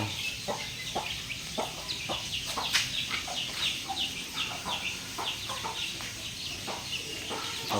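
A mother hen clucks steadily in short repeated bursts, with other fowl chirping and peeping faintly in the background.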